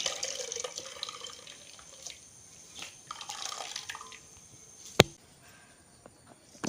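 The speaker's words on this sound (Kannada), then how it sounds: "ಅದನ್ನು ಬಟ್ಟೆಯಲ್ಲಿ ಹಾಕಿ ಈ ರೀತಿಯಾಗಿ ಹಾಲು ಹಿಂಡುವಂಥದ್ದು" Milk squeezed by hand from grated, ground coconut through a cloth falls in faint trickles and scattered drips, close up, with one sharp click near the end.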